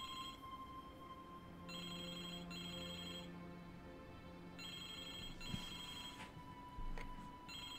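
In the adventure game Broken Sword 2, a phone rings in repeated bursts, three or four electronic trills with short pauses between them. They sound fairly close over a quiet room tone, with no talking.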